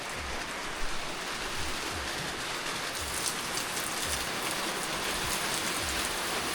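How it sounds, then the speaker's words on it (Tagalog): Heavy typhoon rain pours steadily, a dense continuous hiss of drops drumming on surfaces, with no voices. "Ay, lumakas ng ulan."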